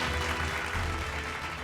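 Steady applause from an audience at an agricultural awards ceremony, a continuous wash of clapping filling the whole moment at moderate volume with no clear voices over it.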